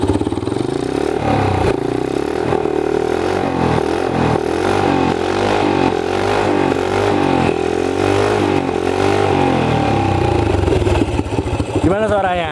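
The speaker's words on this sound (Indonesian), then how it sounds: "kita nggak cobain suaranya kayak gimana ya si motor ini" A custom-built chopper motorcycle engine revs loudly nearby in repeated rising and falling bursts over a rough, clattering idle, with a final sharp rev at the end.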